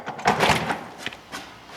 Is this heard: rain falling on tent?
no